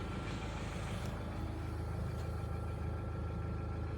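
A Mahindra Thar 4x4 engine idles steadily, a faint, even low rumble heard from inside the vehicle with no voices.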